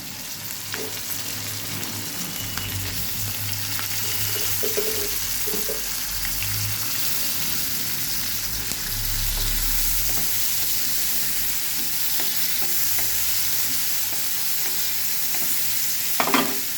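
Chopped tomatoes sizzle and fry in a pan as they are stirred, a steady close crackle with occasional scraping clinks, no talking.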